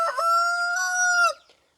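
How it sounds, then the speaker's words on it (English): A single rooster crows in a barn, one long, loud, close call that holds steady and then cuts off, with no other sound around it. "I can hear chirping through the window. There's chickens in the barn."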